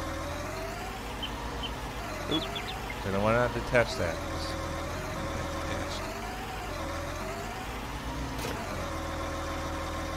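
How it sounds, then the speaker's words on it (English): A tractor engine in the Bourgault DLC of a farming video game hums at a steady low idle throughout, loud and close, while someone talks over it. "Start the engine up."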